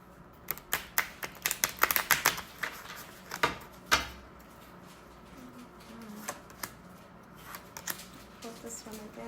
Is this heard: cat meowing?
no